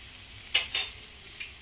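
Spices such as Kashmiri red chilli and garam masala frying in a pan over low gas for fresh pea paratha stuffing: a soft, close sizzle broken by a few brief scrapes of stirring.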